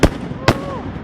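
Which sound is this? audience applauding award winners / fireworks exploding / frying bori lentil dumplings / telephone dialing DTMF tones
fireworks exploding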